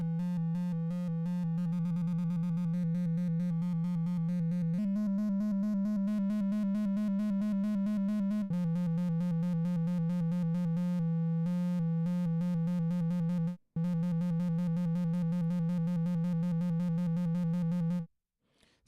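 Steady synthesizer oscillator tone built in Reaktor for a custom kick drum patch, a sustained buzzy pitched drone that shifts pitch in steps, briefly cuts out, then resumes before stopping.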